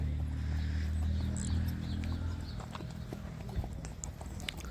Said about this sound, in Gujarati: બહુ એવી મસ્ત એની ચાલ છે ઘોડીની